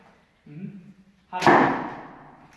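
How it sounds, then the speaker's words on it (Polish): A brief low vocal sound, then a sharp snap and thud of a Japanese bow releasing as it turns in the hand after the shot, followed by a ringing, decaying resonance. "Łuk w momencie strzału nie zatrzymał się tu, tylko się obrócił, aż uderzył w drugą stronę."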